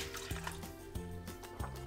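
White wine trickles and drips into a bowl already holding star anise, crystal sugar and soy sauce for Taiwanese beef noodles, a soft, close liquid pour with small splashy pulses and no talking.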